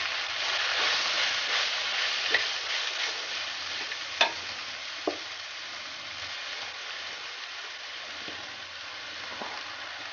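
Pumpkin leaves sizzling and being stirred in a hot pan for thoran, a steady frying hiss close by with a few sharp scraping clicks of the spoon against the pan.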